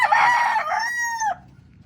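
A rooster crows once, close and loud, in a single drawn-out call from a coop of chickens, ending abruptly into quiet.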